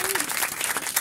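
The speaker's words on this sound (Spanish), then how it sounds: "Agus, un aplauso para ella." A short burst of dense clapping from a small group, close and lively, filling the whole moment.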